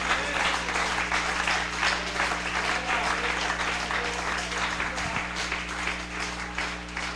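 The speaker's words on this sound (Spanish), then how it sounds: "un aplauso para el Señor" A congregation applauds during a church sermon, sustained dense clapping from many hands filling the room at full volume for several seconds.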